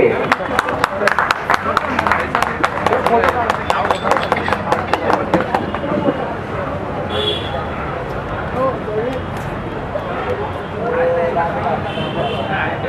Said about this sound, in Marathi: जोरदार टाळ्या झाल्या पाहिजेत नामांतराच्या लढवयांसाठी